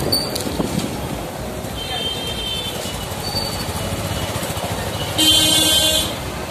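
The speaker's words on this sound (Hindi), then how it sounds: "और हमारे भाई साहब का पल्सर का बाइक है।" Steady road rumble and wind noise from a Bajaj Pulsar motorcycle ride, continuous and fairly loud throughout, with a brief brighter hiss swelling near the end.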